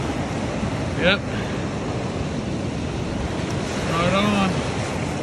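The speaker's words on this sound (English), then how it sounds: "I am right at the mouth of the river facing the ocean." Steady roar of Pacific Ocean surf and wind at the mouth of a river, heard from a canoe, with constant broadband wash throughout and brief spoken remarks from a man over it.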